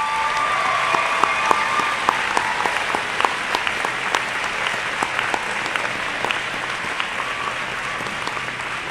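Sustained applause from a convocation audience honoring graduates' supporters at a theology and education ceremony, steady dense clapping throughout with no voices on top.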